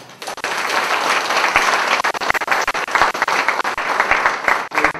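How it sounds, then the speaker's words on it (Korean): A political lecture audience breaks into applause, a loud, dense burst of many hands clapping that rises quickly and carries on throughout, with individual sharp claps standing out near the end. "박수 한번 보내주십시오"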